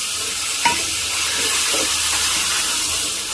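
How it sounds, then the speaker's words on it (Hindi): Mutton frying and browning in a pot for Afghani pulao gives a loud, steady, close sizzle that runs throughout, with a faint clink of a utensil near the start and no talk. "आपने मटन को खूब भूनना है, अच्छा ब्राउन करना है।"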